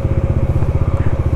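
A motorcycle engine idles close by with a fast, steady, even throb and a slight mechanical clatter, heard alone for a short stretch during a ride from Shimla to Rampur on NH5.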